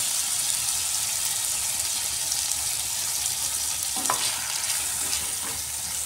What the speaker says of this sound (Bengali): আলুটাকে একটু লাল লাল করে ভেজে নিতে হবে।